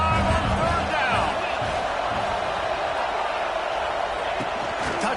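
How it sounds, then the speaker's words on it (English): Buckeye crowd cheering at a college football game in a video game, a loud continuous stadium roar with scattered shouts, steady throughout. "The Buckeye crowd alive on third down."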